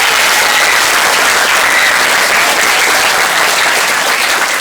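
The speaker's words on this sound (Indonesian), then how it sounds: "tepuk tangan untuk kita semua" Dense, steady clapping from a school audience at a motivational public speaking training session in Bekasi, filling the whole stretch without a break and with no voices on top.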